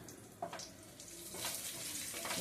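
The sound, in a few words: cumin seeds frying in hot oil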